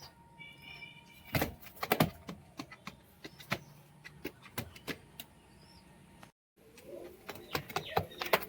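Pigeons coo softly in a loft, with low murmuring calls mixed among sharp clicks, knocks and fluttering movements close by.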